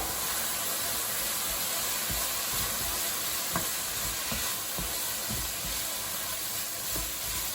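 Coconut chicken stirred in a sizzling pan, a steady broadband fry hiss with soft irregular scraping knocks from the spoon throughout, close and moderately loud.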